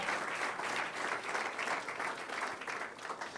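A church congregation applauds during a sermon, a steady, even wash of many hands clapping heard from a distance at moderate volume, with no voices breaking through.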